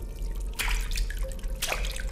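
Water dripping from a tap in the horror game Don't! Fret: two distinct splashy drips about a second apart over a low, steady background hum, close and fairly clear.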